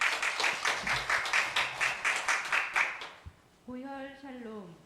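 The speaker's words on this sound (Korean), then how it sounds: "자, 박수." A church congregation applauds with steady rhythmic clapping for about three seconds, then fades out. A voice begins speaking as the clapping ends.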